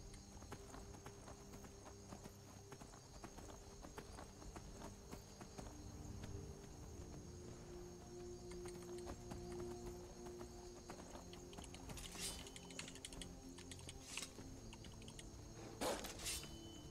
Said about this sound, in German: so springt das Pferd